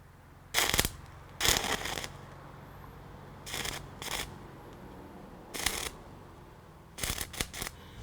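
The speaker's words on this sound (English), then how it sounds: "I call that welding, look at that." Arc welding powered by car batteries outdoors in the bush, heard as several sharp crackling bursts of sparking arc, each lasting about a second, separated by quiet pauses, with no talking.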